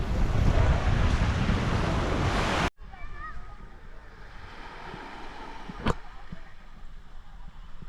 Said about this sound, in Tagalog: Beach. Balagbag Beach.